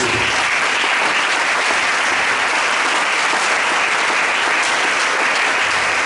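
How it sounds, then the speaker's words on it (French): A church congregation at a worship service applauds and cheers, a dense, continuous wash of clapping and crowd noise at steady loudness throughout. "Est-ce qu'on peut honorer la parole de Dieu par nos acclamations?"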